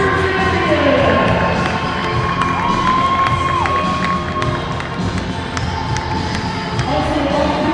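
A crowd at a high school hockey final cheers and shouts for the champion Stars in an ice arena. The roar is loud and sustained, with high-pitched yells and a brief whistle-like tone rising through it.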